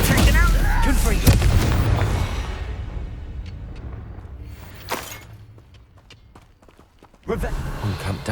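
A fiery Confringo spell blast in the video game Hogwarts Legacy, a loud booming explosion that decays into rumble, followed by a smaller crack and a second burst near the end, with battle noise and voices around it.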